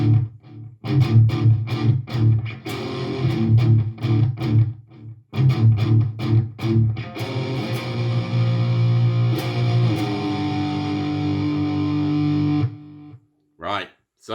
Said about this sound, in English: you are palm muting, as I say, and it will sound something like this.